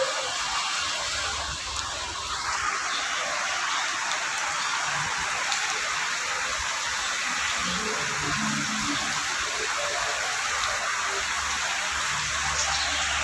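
Heavy monsoon downpour in Chikhli, Pune, a steady dense hiss of rain drumming on surfaces and water, continuous and loud throughout with no voices.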